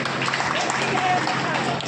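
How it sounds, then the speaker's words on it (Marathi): An audience at a village revenue-campaign gathering claps together in a brief, steady burst of applause filling the whole moment. "एकदा त्यांच्यासाठी टाळ्या वाजवूया जोरात"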